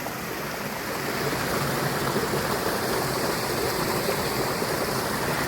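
Woodland waterfall pouring steadily close by, a dense continuous rush and hiss of falling water with no voices, unchanging from start to finish.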